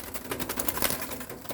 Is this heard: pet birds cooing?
yes